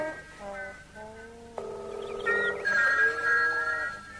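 A telephone rings in a children's cartoon of The Three Little Pigs, a bright repeating electronic trill rising in pitch over a musical background, fairly loud and alone for a few seconds.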